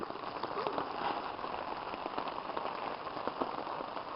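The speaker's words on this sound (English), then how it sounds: "Still hasn't let up raining." Steady rain patters on a tent fabric, a dense, even drumming of drops with no pauses, close and moderately loud.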